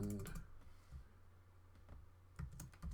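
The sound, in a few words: typing on a computer keyboard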